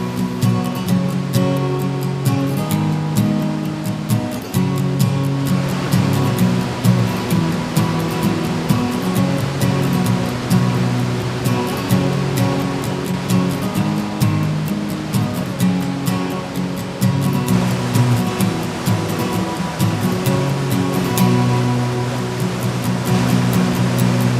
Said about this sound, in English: The lower falls is made up of 5 smaller falls.